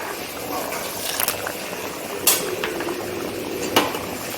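A cooking pot lid is lifted and handled over simmering lentils with greens and taro, giving a few sharp metallic clinks against a soft bubbling background, with quiet talk underneath.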